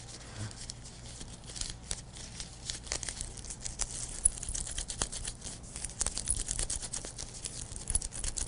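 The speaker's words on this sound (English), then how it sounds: "you want to knead them together thoroughly until you see no more marbling of the colors." Hands kneading and squeezing two-part epoxy clay, giving a soft, irregular crinkling and tearing texture of small close-up sticky squelches and pulls that continue steadily without talk.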